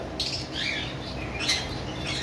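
A conure parrot for sale squawks in loud, harsh bursts over steady background noise, with repeated shrill calls filling the short stretch and no talking.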